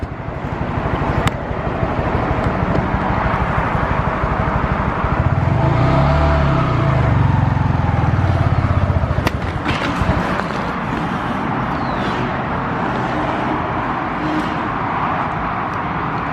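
A 2020 Honda Grom motorcycle revs on a dyno while shifting into second gear, its engine droning steadily and loud with a swelling rise mid-run, no voices present.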